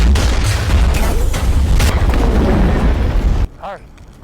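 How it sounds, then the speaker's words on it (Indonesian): A loud, sustained roaring blast rumbles heavily for several seconds, then cuts off abruptly into quieter background sound. "memegang ponselnya untuk memicu ledakan besar"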